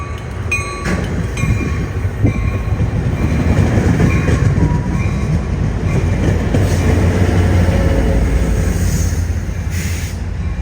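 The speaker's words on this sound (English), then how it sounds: "glides into their station stop to the sound of classic Bombardier bi-level brake squeal" A loud rumbling Trinity Railway Express Bombardier bi-level commuter train rolls into a station with steady clatter, thin high-pitched brake squeals rising over the noise as it slows.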